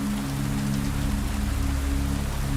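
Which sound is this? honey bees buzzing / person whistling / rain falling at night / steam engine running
rain falling at night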